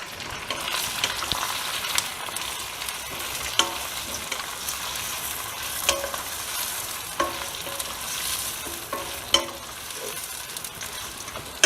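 Green chillies and raw mango frying in hot oil for a mango green chilli thokku, a continuous close sizzle broken by occasional stirring clicks and scrapes of a spoon, no talking.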